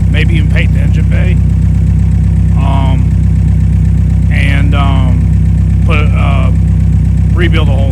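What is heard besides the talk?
car engine running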